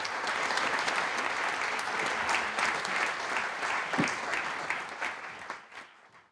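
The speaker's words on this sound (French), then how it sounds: "je vous demande de les applaudir et de les encourager" Sustained audience applause welcoming panelists at a round-table conference, a dense even patter of clapping from a room of listeners that thins and tapers off over the last second.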